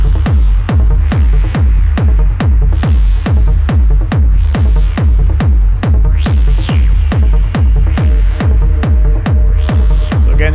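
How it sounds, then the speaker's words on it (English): A loud, steady synth line pulses in a fast, regular rhythm with punchy low thumps on every beat, repeating without pause like a techno loop. "I add this synth too, which sound like this."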